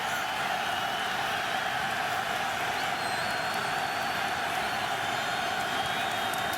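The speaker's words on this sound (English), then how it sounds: "This is so typical of a Bears crowd to cheer the defense." Stadium crowd at a Chicago Bears football game against the Packers, a steady broad roar of cheering for the defense that holds at an even level throughout.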